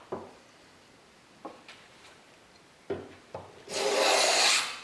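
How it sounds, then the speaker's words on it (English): A hand plane set for a fine cut takes short rasping strokes on wood, a few light passes followed by a longer, louder shaving stroke, close by. "excels at dealing with conventional planing that you need to just take that fine little cut off"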